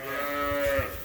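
A lamb on an icy sheep farm gives a single close, clear bleat lasting about a second.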